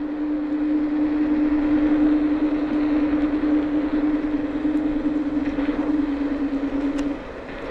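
A Funscooter F10 Max Pro electric scooter cruises at 35 km/h, its motor giving a steady, loud droning whine over continuous wind and road rush, easing off near the end.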